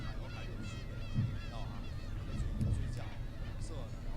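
Black-tailed gulls call on Snake Island, a crowded seabird colony, giving harsh honking cries that rise repeatedly over a busy background of distant calls and murmuring voices.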